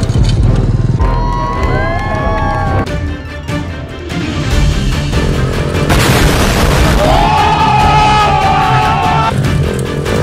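A dirt bike revs and roars nearby, the engine note rising and falling in loud bursts with popping and booming from the exhaust over about ten seconds, with faint shouting in the background.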